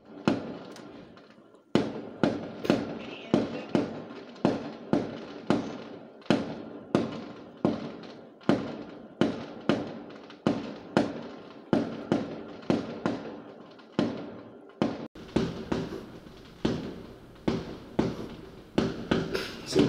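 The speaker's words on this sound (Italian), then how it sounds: "Perché i botti a quest'ora?" Fireworks go off outside at night in a long string of sharp bangs, each ringing briefly. The blasts come roughly twice a second, with a denser, quicker volley near the end.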